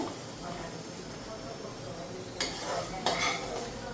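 Pots and a wok clatter in a home kitchen as pointed gourd is set to fry, with a couple of sharp metallic knocks near the end over a steady low background hum.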